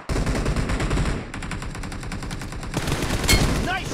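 Automatic gunfire in PUBG Mobile arena training, loud rapid bursts filling the whole stretch with a sharper crack near the end.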